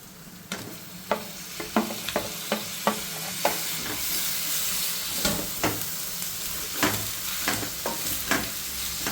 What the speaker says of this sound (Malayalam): ഈ വെളുത്തുള്ളി, പച്ചമുളക് ചതച്ചത് നമ്മൾ ചേർക്കുകയാണ്.